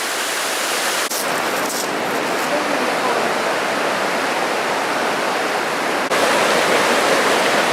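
Tank Creek rushes steadily in a constant, full hiss, like a small cascade flowing nearby, with no break in the sound.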